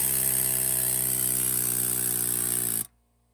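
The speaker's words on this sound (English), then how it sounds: "Now we're gonna take our air hammer, put it right in there. Let's start pounding." An air hammer pounds a loosened bolt on a Ford F350 Power Stroke truck, a loud, steady high-pitched rattling buzz that runs continuously, close up, then cuts off abruptly near the end.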